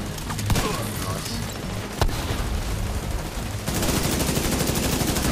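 Sustained automatic gunfire from a deployed turret in The Division 2, a dense rapid rattle with sharp booming shots, loud and close throughout the combat scene.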